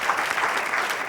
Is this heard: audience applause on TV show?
yes